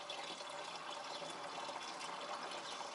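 AdBlue poured from a container into the tank of a Peugeot, making a steady, continuous liquid rush and hiss that runs unbroken throughout with no talking.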